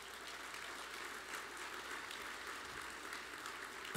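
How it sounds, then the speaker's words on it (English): Audience applause at a live event, a faint, dense, steady wash of clapping from a distant crowd that holds evenly for four seconds. "I want a round of applause for Dick."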